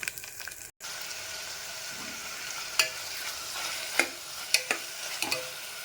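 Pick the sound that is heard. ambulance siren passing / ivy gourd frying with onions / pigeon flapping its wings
ivy gourd frying with onions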